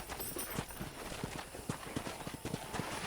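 Horse hooves clip-clop steadily in the Western video game Red Dead Redemption, a fairly regular walking rhythm of soft thuds under a busy ambient game bed.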